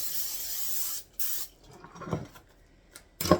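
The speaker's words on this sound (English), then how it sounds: "We're going to spray the bottom lightly." Cooking spray hisses loudly into a deep-dish pie pan in two bursts, one long and one short, then a light clatter and another sharp spray burst at the end.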